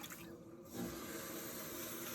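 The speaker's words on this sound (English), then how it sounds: "first thing I'm going to do is clean off my wheel head" Water runs steadily onto a pottery wheel head being cleaned, a broad continuous splashing wash that starts after a short quieter moment and holds at an even level.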